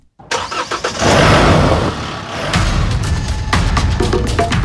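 Chevrolet Trailblazer engine cranking to life and settling into a medium-pitched idle, a loud close start followed by a steady running drone with occasional thumps.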